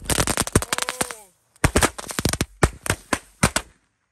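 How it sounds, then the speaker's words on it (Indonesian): A pack of black kupu tor firecrackers goes off in a rapid, loud, crackling string of bangs. The bursts come in two clusters with a short gap between them and fade out at the end. "Lanjut ini kita nyalakan mercon kupu tor warna hitam 1 pak."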